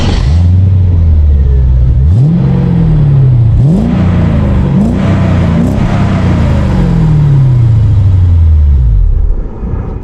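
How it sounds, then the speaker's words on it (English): A Mercedes-Benz E55 AMG W210 V8 barks through its AMG exhaust in several sharp blips, each climbing and falling, then one long rev that sweeps up and winds down, loud and close. "you got the AMG exhaust, and it makes a glorious sound."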